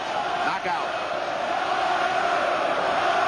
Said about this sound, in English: Listen to this crowd, the chanting,